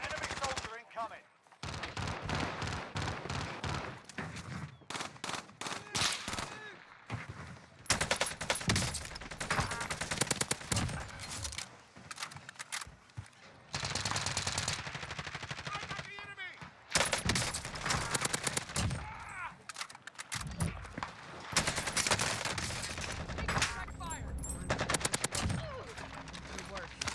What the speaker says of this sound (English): AK hitting as usual.